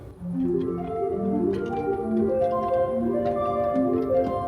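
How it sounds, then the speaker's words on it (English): Soft, pure tones from a pipe organ's 8-foot flute stop play a slow melody of sustained notes, gentle and clear, with faint clicks from the instrument's action. "And let's listen to the flute. So there's an 8-foot flute,"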